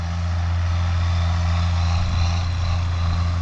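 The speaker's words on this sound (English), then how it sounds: "An American-built tractor pulling an Australian-built sprayer." An American-built tractor pulling an Australian-built sprayer across a Western Australian farm paddock gives a steady, loud engine drone with a deep, constant hum and broad mechanical noise, continuous throughout, with no talking.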